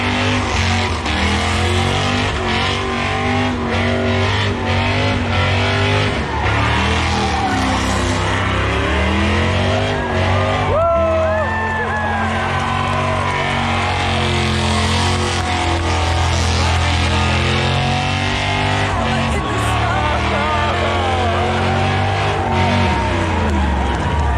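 Drag racing cars, including a crew cab Chevy pickup, at Holley LS Fest in Bowling Green, loud roaring engines revving and rising in pitch continuously, with crowd noise and a voice under the din.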